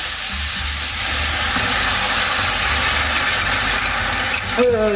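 Veal stock poured into a hot pan of carrots and onions, giving a loud, steady hissing sizzle that fills the whole stretch while a voice speaks over it.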